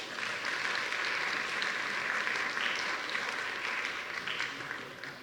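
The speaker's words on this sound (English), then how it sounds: "can we get one more round of applause for Dr. Levine's talk?" Audience applause after a keynote address at a medical school diversity week event, a steady, full round of clapping from a large room that holds evenly and begins to fade at the end.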